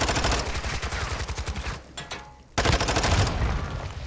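Rapid, rhythmic automatic gunfire in Call of Duty: Warzone 2.0 fires in two loud bursts, separated by a brief lull of quieter rattling.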